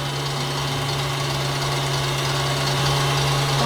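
A stand mixer whips a maple marshmallow mixture, giving a steady, loud motor hum with a constant mechanical whir that runs without pause, close by and alone.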